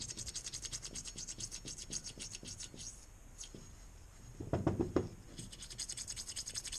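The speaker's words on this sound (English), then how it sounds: "these are really great for cleaning out these holes" Pipe cleaner scrubbing out small holes in a Jeep brake part, giving a run of quick, close scratchy strokes with a short pause and a louder rubbing burst near the end.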